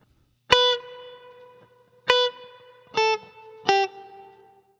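Four short, clipped guitar notes picked one at a time on a Spanish-style beginner tune, each cut off quickly with a brief ringing tail, evenly spaced and clear with no talking.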